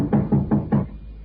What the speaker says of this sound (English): I went round backstage after the show and I knocked on Bertie's dressing room.